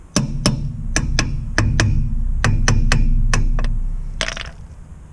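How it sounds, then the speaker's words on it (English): Mallet taps on a Land Rover Defender drive flange, a dozen or so sharp metallic knocks in an uneven rhythm over a low steady hum, ending with a brief scrape. "I need a mallet."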